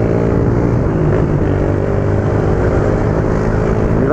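A motorcycle rides along, its engine a loud, steady rumbling drone close to the rider, with a brief rising rev near the end.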